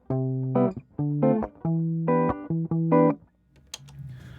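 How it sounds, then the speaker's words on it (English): Electric guitar through a heavier low pass filter plays a rhythmic run of clean, muffled chords and notes up close, then fades into a soft tail with faint handling noise. "And then a bigger low pass filter."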